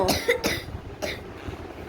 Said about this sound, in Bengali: আবার কাশি।